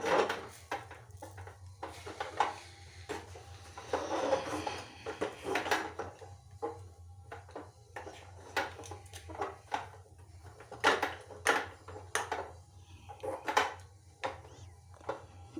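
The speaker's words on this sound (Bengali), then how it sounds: "এবার মিশ্রণটাকে আমি কড়াই থেকে থালায় নামিয়ে নেব" A spoon scraping and clanking against a metal wok as a thick sweet mixture is moved onto an oiled plate, with irregular sharp knocks, scrapes and dish clatter close by, no talking.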